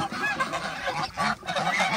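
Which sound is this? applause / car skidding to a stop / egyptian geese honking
egyptian geese honking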